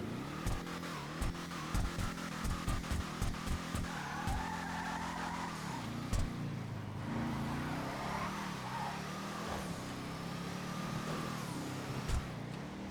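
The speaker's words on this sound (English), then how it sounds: "let's see how this thing sounds" The Declasse Impaler LX Cruiser muscle car engine in GTA Online revs and roars steadily, with repeated sharp throttle blips early on and tire squeal mixed in, loud and close.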